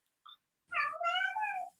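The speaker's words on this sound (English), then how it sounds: "That's my cat. Could you hear that?" A pet cat gives one drawn-out meow with a rising then falling tone, heard close and clear in a quiet room after a tiny chirp.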